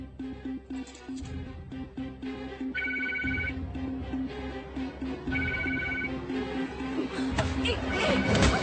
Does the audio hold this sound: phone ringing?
yes